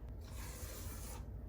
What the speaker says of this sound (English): let's scrape down the side of the bowl